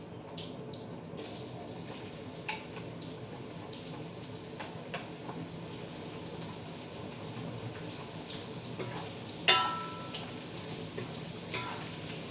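Onions frying in a large amount of oil, giving a steady, close hiss with scattered crackles and one sharper pop near the end, with no talk over it.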